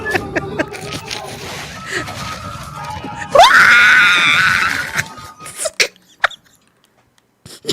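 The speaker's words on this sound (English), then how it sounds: "The screams at the end always." A person screams loudly in a played-back video, a rising shrill cry lasting under two seconds, surrounded by muffled talk and noise before it and sharp clicks and silence after.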